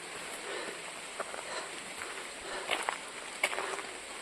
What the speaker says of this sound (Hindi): इस समय बारिश चालू हो चुकी है।